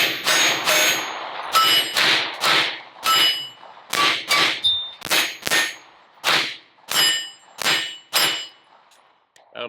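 Pistol shots from a Smith & Wesson M&P 2.0 Compact firing 124 grain Federal HST +P ammunition, each crack followed by a ringing clang from steel targets, about fifteen shots in a steady, fairly quick rhythm, loud and close.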